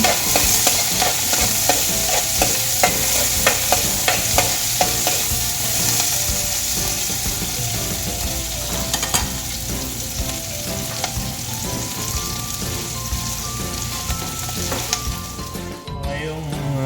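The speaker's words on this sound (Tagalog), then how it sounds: "Nilagyan na natin ang ating bawang at sibuyas." Garlic and onion sauté in hot oil in a pan, giving a loud, steady crackling sizzle broken by repeated scraping strokes as they are stirred.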